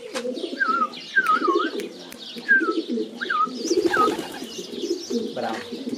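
A young pigeon coos and chirps repeatedly at close range, a series of short rising and falling calls over a low rumbling background.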